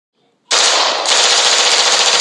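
Sustained automatic gunfire from a Lego Deadpool video game, a dense continuous burst that kicks in abruptly after a near-silent start and holds loud and steady to the end, with a brief shift in intensity midway.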